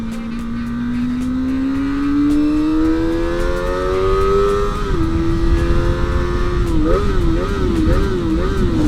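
Kawasaki ZX25R motorcycle engine revving hard, a loud high-pitched whine that climbs steadily, holds, then blips up and down in quick rev bursts, close to the listener with no talking.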